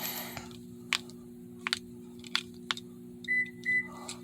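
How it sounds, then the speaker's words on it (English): Confirmation beeps from a 2014 Toyota Camry SE during 4-button remote key programming: two steady electronic tones near the end, after several soft clicks over a constant low hum inside the car. "You heard the beeps. That means that the remote was accepted."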